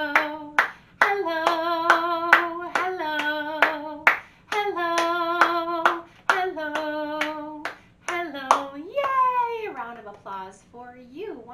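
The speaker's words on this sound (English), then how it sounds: "We're gonna clap super fast." Children clap their hands very fast during a music and movement session, sharp rapid claps in bursts alongside a bright singing voice with long sung notes.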